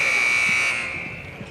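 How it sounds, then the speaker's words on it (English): A basketball game buzzer at a Lady Cyclones girls' game, a loud sustained electronic tone that holds for under a second and then cuts off, leaving faint gym noise. "That's why you heard that buzzer sound as they were doing it."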